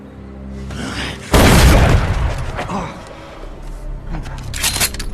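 A single loud shotgun blast goes off in a film scene, a sudden booming crack followed by a decaying tail, with dialogue and score underneath.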